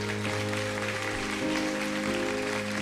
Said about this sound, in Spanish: Denle un fuerte aplauso a estos niños.